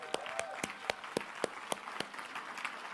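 Seminar audience gives a round of applause, a modest group clapping in sharp, fairly regular claps over a few seconds, moderately quiet and slightly distant.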